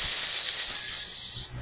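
A voice imitates the hiss of a failing light ballast with one loud, sustained hiss that cuts off abruptly after about a second and a half.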